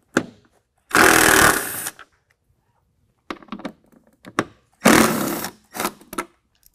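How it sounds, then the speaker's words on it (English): Two loud bursts of a 10mm socket power tool driving out headlight bolts on a 2022 Ford Bronco, each about a second long, with scattered clicks and clanks of handling between them. "And then a 10mm to take out the 2 bolts."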